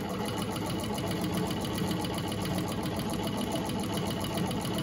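A vintage Gritzner sewing machine stitching steadily, a fast, even mechanical whir and clatter that runs unbroken and close, with no talking.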